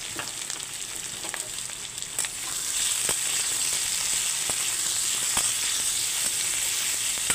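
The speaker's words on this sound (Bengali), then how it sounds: "কেটে রাখা আলুগুলো আমি লবণ দিয়ে ভেজে নেব, হালকা করে ভেজে নেব লবণ দিয়ে।" Cut potatoes frying in hot oil with salt, a loud, steady sizzle that swells after a couple of seconds, with sparse stirring clicks and no talk.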